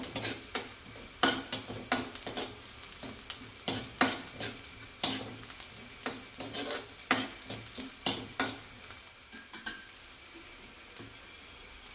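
Spices fried and stirred in a pan for bottle gourd buttermilk sambar: a steady sizzle with repeated sharp scraping and clinking strokes of a spoon against the pan, close and alone, easing off near the end.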